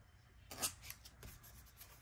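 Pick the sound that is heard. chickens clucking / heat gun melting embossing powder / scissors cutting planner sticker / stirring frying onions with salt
scissors cutting planner sticker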